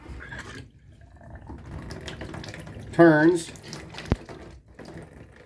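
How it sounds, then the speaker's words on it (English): Water runs steadily but weakly from a bathtub faucet, a soft continuous splash with a brief spoken word over it midway and a sharp knock near the end. "Water is not coming out very strong"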